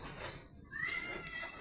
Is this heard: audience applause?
no